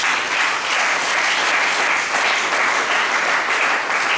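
A church congregation applauds steadily for several seconds, a dense, even clatter of many hands clapping with no pause and no voices standing out.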